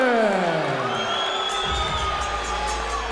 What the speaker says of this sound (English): Now you can tell the crowd wasn't exactly delighted with the stoppage.